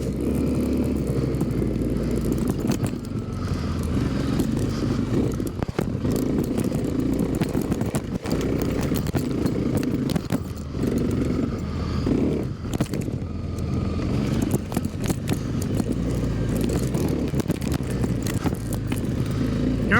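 A Kawasaki KLX 300 dirt bike engine runs steadily up close while riding the Hatfield McCoy Trails' Indian Ridge easy trail, a continuous rough drone that rises and dips with the throttle for the whole stretch.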